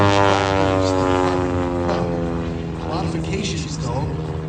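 A Carbon Cub ultralight short-takeoff airplane flying at an airshow, its steady engine drone holding loud and even throughout, with a commentator talking over it.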